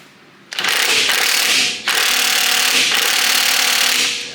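A breaker bar works a tight bolt loose on a rusty Jeep Dana 30 axle, loud close bursts of grinding, ratcheting metal with a short break between two long strained pulls, no talking.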